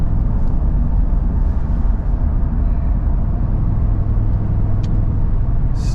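A 2023 Ford F250 Super Duty tows a load uphill, its engine a loud, steady low rumble heard from inside the cab, with faint clicks over the drone.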